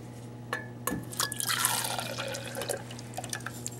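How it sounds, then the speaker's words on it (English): DI water and soil poured into a mixer cup in a soil hydrometer lab test, heard as close, sparse drips and a short trickling pour with small splashes against the cup. "you pour it into your mixer cup"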